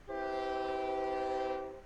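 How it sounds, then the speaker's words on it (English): A train in OpenTTD sets off with a steady, rich horn tone lasting under two seconds, loud and close, fading at the end. "We're going to start the train."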